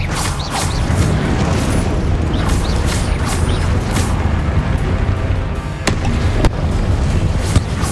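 Spells fired in the video game Hogwarts Legacy, a dense run of whooshing magical blasts and rumbling explosions with a few sharp cracks, loud and continuous with no talk.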